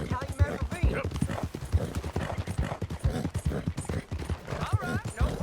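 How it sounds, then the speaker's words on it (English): Horse hooves clip-clop in a steady rhythmic gait in Red Dead Redemption 2, sounding close and distinct beneath continuous conversation between characters. "that's a nice looking horse you have there"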